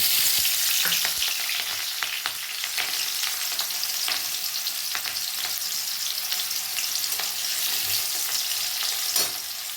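Chopped onion sizzles steadily in hot oil in a wok, a loud, continuous frying crackle with occasional sharp pops and stirring scrapes, no voices.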